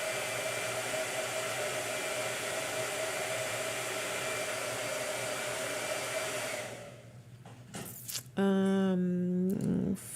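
A blow dryer runs loud and steady close by, then cuts off near the end, followed by a few short dog-like whines and growls.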